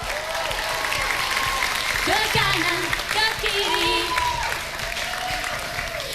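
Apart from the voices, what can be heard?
applause for a candidate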